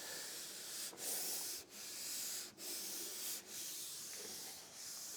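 Hand sanding of primer on a VW T25 van body panel, steady close-up rubbing strokes with fine-grit paper in repeated passes, each separated by brief pauses, no talking.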